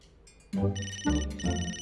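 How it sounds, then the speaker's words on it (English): A mobile phone ringtone goes off nearby, a bright repeating electronic melody in two bursts that starts abruptly and keeps ringing, with no talk over it. "I forgot I borrowed my dad's phone. I should have put it on silent."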